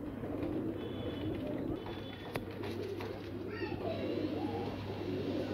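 Pigeons coo softly in a low, repeated murmur against a steady background hum, with a few faint chirps and calls scattered through, all fairly quiet.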